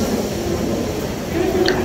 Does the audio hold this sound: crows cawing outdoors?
no